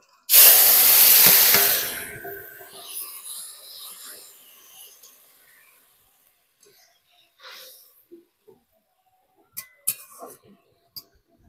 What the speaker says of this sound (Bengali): এবার আমি তরকারিটা ঢেলে দেব